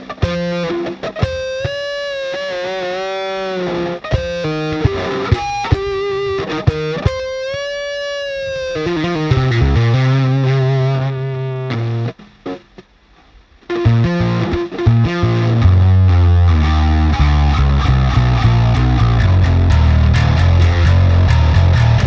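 Distorted bass guitar run through a wah pedal in a low-note doom jam, sweeping filtered tones over heavy sustained low notes, loud and continuous with a brief drop near the middle.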